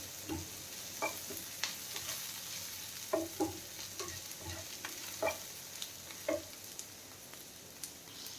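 Onions frying in a pan, cooked until reddish for mushroom galouti kebab, with a soft sizzle under repeated scraping and tapping stirs spaced through the clip.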